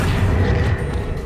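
Expelliarmus spell cast in Hogwarts Legacy, a loud, dense booming burst that fills the whole brief moment, heavy in the low end with a crackling edge.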